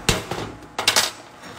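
Hammer blows strike a cold chisel while cutting a rusty, rotten door on an old Dodge Power Wagon: three to four sharp, ringing metallic hits at uneven spacing, close and loud, with no talking.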